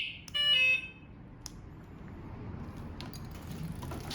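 The keyless system of a Honda Sundiro S07 electric bike gives one short, bright electronic beep at the start, followed by a low rumble of background noise and a few faint clicks.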